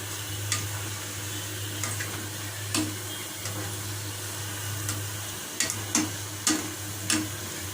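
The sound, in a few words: boondia batter drops frying in oil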